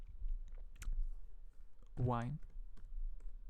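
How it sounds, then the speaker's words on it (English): Typing on a computer keyboard into a search bar: quick, quiet clicking keystrokes at close range, interrupted by one brief spoken word in the middle. "then you type in the search bar on top"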